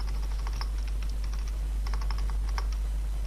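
A file name is typed on a computer keyboard during an HTML layout tutorial: quick, close, irregular clacking keystrokes over a low steady hum, with no talking.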